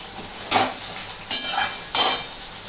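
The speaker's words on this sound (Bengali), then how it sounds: "এটাকে কিন্তু আমি ভালো করে নাড়াচ্ছি" Pointed gourd dorma frying in a pan and stirred with a spatula, three distinct scraping strokes over a soft, continuous sizzle, heard up close with no voices.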